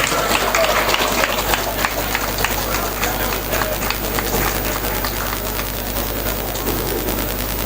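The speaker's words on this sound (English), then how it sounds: "Let's welcome him in for a round of applause." A crowd gives a sustained round of applause for the Chief Fire Officer at a St. Lucia Fire Service parade, dense steady clapping across the whole stretch with a low background hum.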